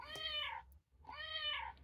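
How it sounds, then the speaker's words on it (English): Kittens meowing play from a children's farm sound book: two clear, separate meows of similar length with a short gap between them, close and fairly loud. "3 little kittens."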